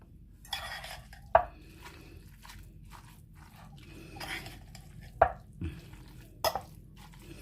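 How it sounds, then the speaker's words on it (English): Shredded chicken is stirred with hot sauce in a bowl, giving soft wet squelching with a few sharp clinks of a utensil against the dish, close and quiet, with no talking. "And I'm just going to mix that up until it's all coated nicely."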